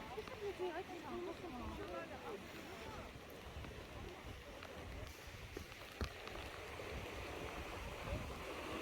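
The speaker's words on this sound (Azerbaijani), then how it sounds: "İlk missiyamız bu axar çayı keçməkdir." A flowing stream crossed on a hiking trail toward Khalit waterfall near Shamakhi, Azerbaijan, rushes steadily and fairly close, with what may be faint voices or birds near the start.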